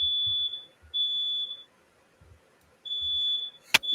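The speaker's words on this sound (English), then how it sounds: "That's my smoke alarm going" A smoke alarm sounds high-pitched beeps, two long tones, a pause, then another long tone followed by a sharp clatter.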